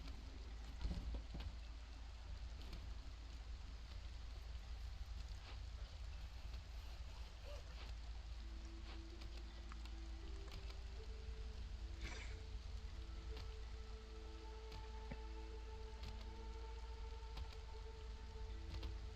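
Steady drizzle patters throughout a rainy scene in the video game Against the Storm, a dense even hiss with soft ambient tones rising in the latter half and no speech over it.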